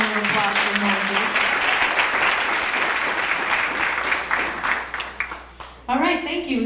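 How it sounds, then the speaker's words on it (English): A graduation ceremony crowd applauds loudly and steadily for several seconds, then it thins out and a voice starts speaking. "Please, another round of applause for Moses."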